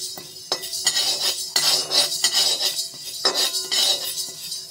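Moong dal being dry-roasted in a metal pan, a close series of irregular scraping and clinking strokes of a utensil against the pan with brief pauses between them, and no talking.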